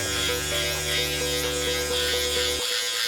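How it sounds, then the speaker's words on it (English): An electric trimmer with a 3.5 millimetre guard buzzes steadily and close while tidying a beard, then cuts off abruptly near the end. "trim the beard a lot faster and a lot neater"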